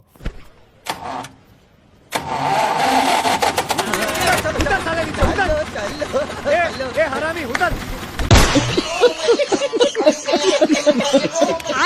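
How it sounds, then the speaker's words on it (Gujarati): A village tractor engine idles and rumbles at a farm crossing, mostly buried under loud overlapping talk and laughter, with a sharper, busier stretch near the end. "આવી ગયું ગુગાનું ટ્રેક્ટર"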